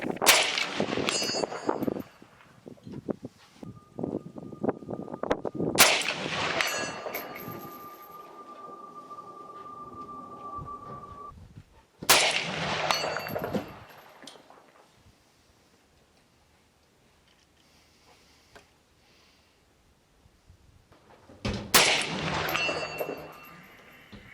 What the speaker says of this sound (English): I just put the post in the middle of the gong, exhale, and squeeze.